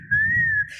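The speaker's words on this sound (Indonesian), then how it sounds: "Tapi ketika saya keluar cuma bersiul" A single short whistle from a person, one clear steady tone under a second long, close and alone, with a faint low murmur underneath.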